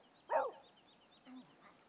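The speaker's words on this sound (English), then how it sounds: "There's some puppies here" Puppies in The Sims 3 video game give a single short yap, faint against a quiet background, followed by a softer, smaller sound a second later.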